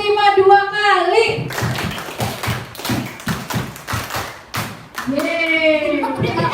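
Children in a classroom clapping in counted rhythmic bursts, sharp close claps in quick sets, between a teacher's spoken and chanted counting cues.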